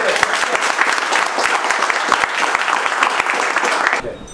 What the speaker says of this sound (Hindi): और एक बार जोरदार ताली यहाँ के पूरी मैनेजमेंट टीम के लिए।